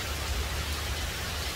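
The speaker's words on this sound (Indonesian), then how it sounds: "Jadi hujan membawa berkah" Heavy rain pours onto the front porch of a house, a loud, steady, dense hiss with a low rumbling undertone and no break.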